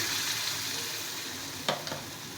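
Mango malpua batter fries in a little oil with a constant close hissing sizzle, broken near the end by two brief clinks of a utensil against the pan.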